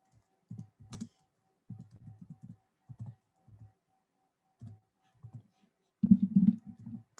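Someone types on a computer keyboard in short irregular bursts of clicking keys, close and fairly quiet, ending in a quicker flurry of keystrokes.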